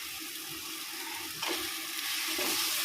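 Chicken pieces hit hot oil and masala in a single pot for chicken biryani, giving a loud, steady, close sizzle that swells sharply partway through and stays dense and hissing to the end.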